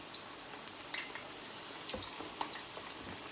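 Thai fried chicken pieces frying in a pan at a steady, controlled heat, giving a soft continuous sizzle with faint scattered pops and crackles, fairly quiet throughout with no talking.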